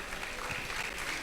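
Audience applause at a formal gathering welcoming professors onto a stage, a steady, dense wash of clapping that holds at an even level throughout.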